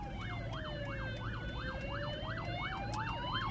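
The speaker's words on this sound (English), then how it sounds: "the ambulance is coming up my right-hand side" An ambulance siren wails in a rising and falling yelp, continuous and moderately distant, over a low rumble of traffic.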